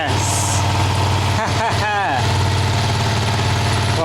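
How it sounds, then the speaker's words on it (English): A Yamaha XSR 125 Legacy motorcycle engine under rebuild runs in gear, a steady mid-pitched idle thrum with a brief rev change partway through, loud and close. "Let's start the engine. So the engine runs."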